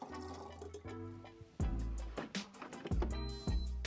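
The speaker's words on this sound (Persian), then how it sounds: "همش یعنی آب بریز داخل تانکش." Water poured into the tank of a De'Longhi Eletta coffee machine, heard as a series of splashing, filling pours with a few short pauses and sharp clunks, close and fairly loud, with no talk.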